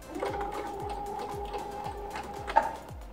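A sewing machine runs steadily at a long stitch length, with the needle starting down for a back stitch. Its rhythmic thumps come about every half second beneath a continuous motor whine, close and moderately loud, with no talking.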